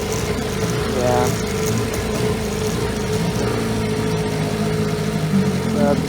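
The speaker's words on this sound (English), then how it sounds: "So bring the idle down low, and it's happy." A Chrysler outboard motor on an inflatable boat idles low and steady in a steady hum, with someone talking over the engine throughout.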